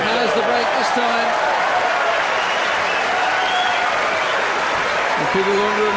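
A tennis crowd applauds steadily through a break point at the Miami final between Federer and Agassi, a broad sustained wash of clapping with a commentator talking over it.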